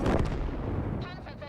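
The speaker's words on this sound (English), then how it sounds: "Panzer zerstört." Tank cannon fire from the video game World of Tanks, a heavy booming shot and rumbling blast as an enemy tank is destroyed, loud and dense, with game radio chatter layered over it.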